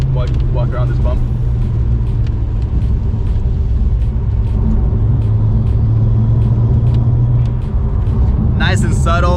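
BMW 1M E82 idling with an exhaust fitted with a spring-regulated pressure valve, a loud, steady low rumble close by, with people talking over it.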